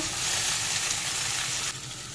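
A pan of potato and cauliflower curry sizzles and fries loudly as a little water goes in, a dense continuous hiss that drops away abruptly near the end, close up with no talk.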